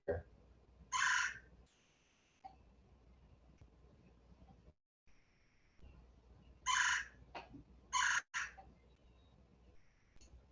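Harsh, loud woodpecker calls burst out in short clusters, two or three at a time, separated by quieter stretches with faint background noise.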